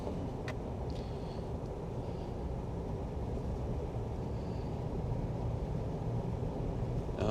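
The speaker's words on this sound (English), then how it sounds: "so now it's just a little bit of city driving" A 2003 Jeep Wrangler on city streets, carrying a steady, low road and engine rumble with broadband noise that swells slightly toward the end, with no talking.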